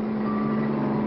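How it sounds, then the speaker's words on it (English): An armored car drives toward a bank in a 1959 animated cartoon, heard as a steady, loud engine drone with a strong low hum, continuous and unbroken throughout. "It's an armored car."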